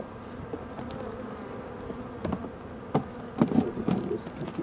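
Honey bees at an opened hive during a honey harvest give a steady low insect hum, with scattered clunks and knocks from hive frames being handled close by.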